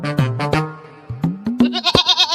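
Goats bleat loudly and close by in a village, several wavering calls in a row with brief gaps, the last ones higher and strained, with no talk over them.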